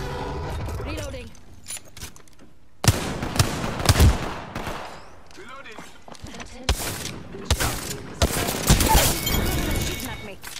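Rapid bursts of gunfire in a video game, loud volleys and single shots crackling across the scene in irregular clusters, with a player's voice talking over the action.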